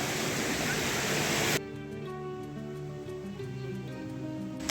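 A waterfall near the Kondane caves at Karjat in Raigad roars as a loud, dense rush of falling water for about a second and a half, then cuts abruptly to steady tonal music.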